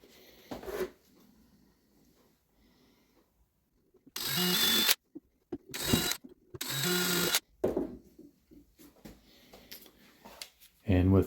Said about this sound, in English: with the included bit chucked up in my drill, I'm going to drive those screws in